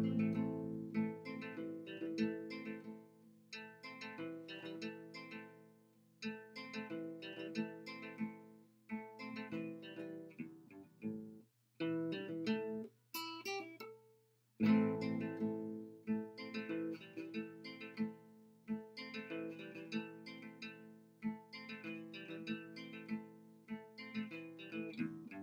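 A theme from the new Star Wars films picked at a quick tempo on guitar, bright plucked notes in flowing phrases with a brief pause and a few high ringing harmonics midway before the melody resumes.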